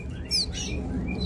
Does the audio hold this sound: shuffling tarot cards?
no